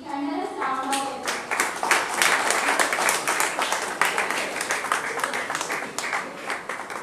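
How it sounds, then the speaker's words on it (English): A high school audience applauds a student at a scholarship felicitation; a voice is heard briefly at the start, then loud, close clapping swells and carries on steadily before easing off slightly. "Audience, please congratulate Vaibhavi with thunderous round of applause."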